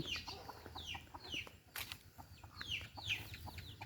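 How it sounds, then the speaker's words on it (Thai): A hen clucks softly and repeatedly in a steady rhythm while leading her chicks up to roost in the evening, faint and unaccompanied by talk. "ดูไก่ขึ้นพาลูกขึ้นไปนอนดูข้างบนคุณนะ"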